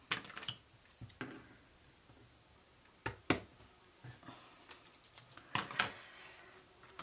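Double-sided tape being cut while making a bookmark, heard as a few sharp snips and crisp crinkling handling noises scattered across the clip, close up and fairly quiet, with no talking.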